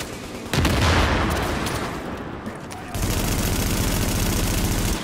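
Machine gun fire from enemy gunners rattles in Mirror's Edge Catalyst, a loud burst at the start giving way to a steady, rapid stream of shots in the second half, close and continuous.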